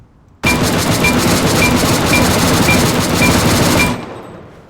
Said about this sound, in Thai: นั่งยิงแบบคุม